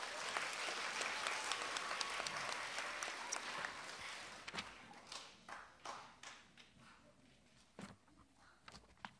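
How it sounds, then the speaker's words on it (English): Audience applause at a spelling bee contest, a dense burst of clapping that thins out after a few seconds into scattered claps and taps, heard at a moderate distance in a hall. "Give them a round of applause."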